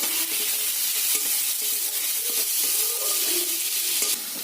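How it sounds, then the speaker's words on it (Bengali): Chopped tomato frying with garlic and salt in a pan, a steady close sizzle with a few soft stirring scrapes, no voices. "রসুনের কাঁচা গন্ধ চলে যাওয়ার পরে টমেটো কুচিটা দিতে হবে"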